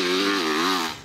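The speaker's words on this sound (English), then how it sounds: "I love the sound of the exhaust." Yamaha YZ450F motorcycle fitted with a Yoshimura RS-12 exhaust revving through the mid-range, a loud, throaty, steady engine note that wavers slightly in pitch before easing off near the end, with no talking.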